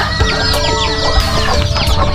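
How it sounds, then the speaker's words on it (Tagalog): Bantam chickens on a farm cluck steadily and loudly at close range, with overlapping short clucks and calls from several birds throughout, and a rooster-like call rising in places. "mga bantam chicken"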